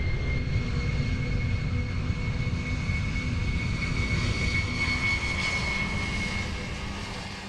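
A Boeing airliner of Philippine Airlines takes off with a steady loud roar from its jet engines and a sustained whine above it, fading slightly toward the end, with no voices.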